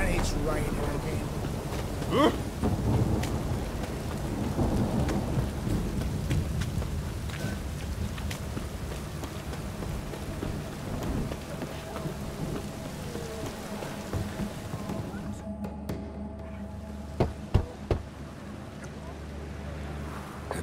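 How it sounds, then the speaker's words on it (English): Steady rain hisses throughout in The Witcher 3: Hearts of Stone video game, with a few low thunder rumbles and occasional soft thumps, moderately quiet and continuous. "And it's raining again."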